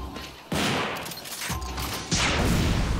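Gunfire from sidearms in the video game Devil May Cry 4, with loud booming blasts at about half a second and again near two seconds, each followed by a dense rumbling tail.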